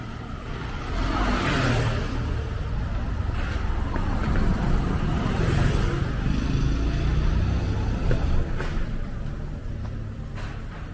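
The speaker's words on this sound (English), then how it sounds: "There are a lot of cars, but it is a wide and quiet road by the standards of the roads in Seoul." Cars rolling past on a wide street in Seoul, a steady traffic rumble with individual vehicles swelling and fading as they pass at moderate distance.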